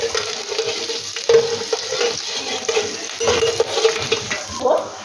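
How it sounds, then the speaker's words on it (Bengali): Chopped ginger and garlic sizzle steadily in hot oil while a utensil stirs and scrapes the pan in irregular strokes, close up, with no voices. "আদা রসুনটাকে একটুখানি ভাজা ভাজা করে"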